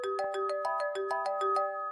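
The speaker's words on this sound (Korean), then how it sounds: "그때 여자분 가방에서 전화벨 소리가 들리더군요." A mobile phone ringtone plays as a repeating electronic melody, steady bright tones pulsing in quick regular beats, clear and alone with no voices, as if sounding from inside a bag.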